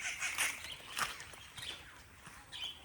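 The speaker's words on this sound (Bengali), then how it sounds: "এই সব পাখি আছে এখানে।" Birds in a forest aviary give several goose-like honking calls, moderately distant and fairly faint, spaced irregularly with soft shuffling sounds between them.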